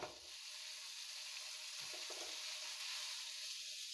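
Ground beef frying in a pan, a faint steady sizzling hiss with a couple of soft stir clicks, no voices.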